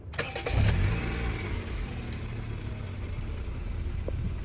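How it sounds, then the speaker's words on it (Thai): A Honda Civic FD car engine cranks and catches, then settles into a steady idle hum close by, after its throttle body was cleaned to fix a swinging idle. "เสร็จสิ้นแล้วนะก็สตาร์ทเครื่อง"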